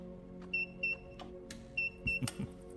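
Beep alert sound from the game Mind Mogul, heard in a Foundry factory-building game: faint, short electronic beeps in quick pairs, repeated twice, with soft clicks and a low background hum.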